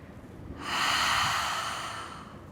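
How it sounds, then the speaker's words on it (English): A single long ujjayi yoga exhale through the mouth with a constricted throat, a soft, steady breathy hiss that swells and fades over about two seconds, close and without any talking. "breathe out through the mouth like you wanted to fog up or steam up a mirror"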